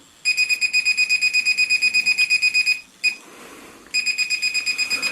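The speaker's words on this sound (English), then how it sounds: "it's got a really annoying beep, and it really is annoying" A drone transmitter's rapid electronic beeping, loud and close, repeating steadily in quick pulses, pausing briefly with a hiss, then resuming.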